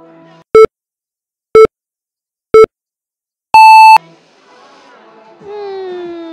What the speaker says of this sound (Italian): potremmo anche mettere il beep